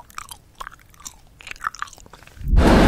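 Close-up mouth chewing with soft wet crunches and bites in an irregular rhythm, ending in a sudden loud burst of broadband noise.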